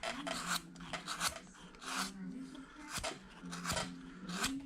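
A number 5 carving gouge cutting into wood while carving a soldier's head, a series of close rasping scrapes in short strokes with brief gaps between them.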